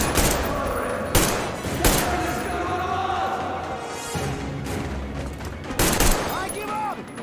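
Gunfire in the video game Metro Exodus on hardcore difficulty, set in a church, with loud repeated shots and bursts over continuous combat noise while voices shout.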